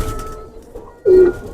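Domestic pigeons cooing at close range, a soft low murmur that swells into a louder, sustained coo near the end, with no talking.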